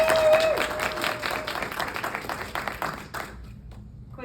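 An audience at a panel on alcohol bursts into sustained applause, loud and even for about three seconds before it cuts off sharply into near silence.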